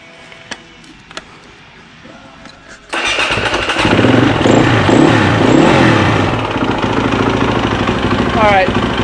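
A KTM 450 RFS motorcycle engine fires up after a few faint clicks and settles into a loud, steady, close idle with a slight uneven throb, running for several seconds without talk.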